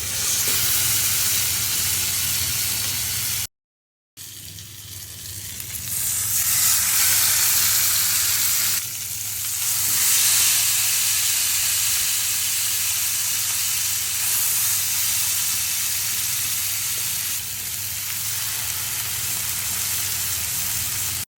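Marinated chicken sizzles in butter in a nonstick frying pan over low heat, a steady loud frying hiss with bright crackle running throughout, briefly cut by a short silent gap near the start.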